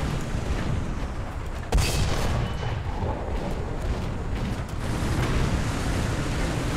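A tank cannon fires in the War Thunder video game, one sharp heavy boom near the start over a continuous loud rumbling engine and mechanical clatter.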